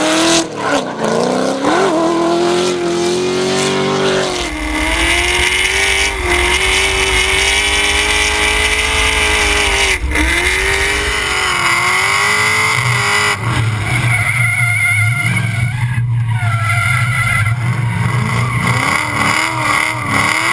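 A D1NZ drift car revs hard with sliding engine pitch and long tire squeals while skidding, loud and close, with the engine note rising and falling through the run.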